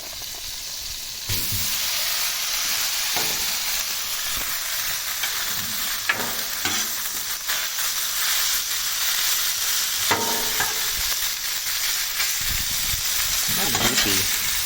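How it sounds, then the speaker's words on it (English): Vegetables, rice and butter fry on a Blackstone griddle with a loud, steady hiss and crackle close by, broken now and then by scraping stirs of a spatula. "We got our other veggies cooking"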